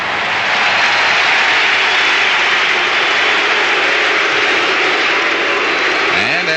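A roaring crowd at a 1986 Astros home game against the Giants swells into sustained cheering and applause, loud and steady with no break.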